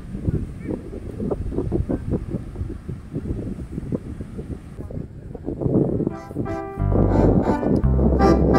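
Strong wind buffets the microphone in gusty, rumbling bursts while a dragon kite flies over Bali, heavy and close throughout, with other outdoor noise entering toward the end.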